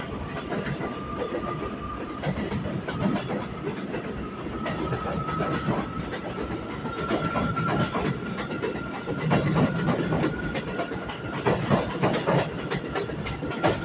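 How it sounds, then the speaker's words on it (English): An elevated A train subway rolls along its tracks in New York City near South Ozone Park, a steady loud rumble with rhythmic clickety-clack and a faint wheel squeal running throughout, no voices. "This elevated line is where the A train runs."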